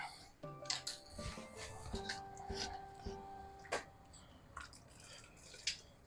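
Chicken and vegetable stock draining through a strainer, soft trickling and dripping with scattered clinks and splashes, quiet and close.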